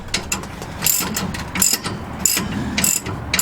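A ratchet tightens the bottom shock bolts on a 2004–2015 Ford F-150: loud, close bursts of rapid clicking come in several repeated strokes with short pauses between them, and no one speaks.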